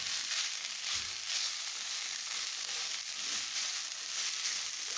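Chorizo frying in a pan, a steady close hiss and crackle of sizzling fat that stays even throughout with no voices over it.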